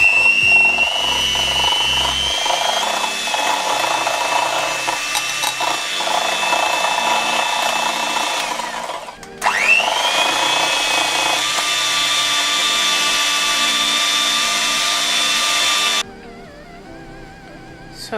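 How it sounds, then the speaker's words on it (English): An electric hand mixer whips a shea butter body cream in a bowl, a steady whirring motor hum with rattling beaters that dips and stops briefly midway, then resumes and cuts off near the end, close and loud with no talk. "So I'm gonna use my hand mixer."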